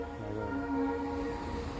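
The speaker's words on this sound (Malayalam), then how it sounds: "ട്രെയിൻ പോകുന്ന ഒച്ചയൊക്കെ ഉണ്ട്" A faint, distant train rumbles past with a steady low drone and a soft sustained horn-like tone, with no voices.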